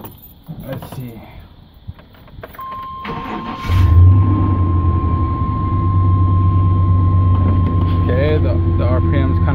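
A car engine cranks and starts after a throttle body spacer install, catching with a surge and then settling into a steady idle, heard close with a voice talking briefly before the start.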